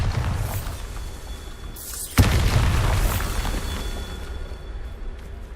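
A Bombarda spell goes off in Hogwarts Legacy with a single sharp, booming explosion partway through, then a rumbling tail that fades slowly under a steady game ambience.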